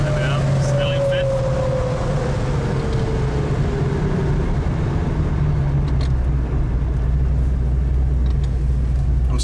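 A 4.6-litre Stage 3 MGB GT V8 with a five-speed gearbox conversion cruises in fifth gear, its low engine drone and road rumble steady throughout, with a tone sliding gently downward as the car slows.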